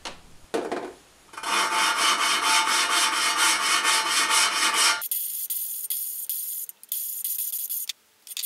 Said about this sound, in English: I got all the valves cleaned up again and started the lapping process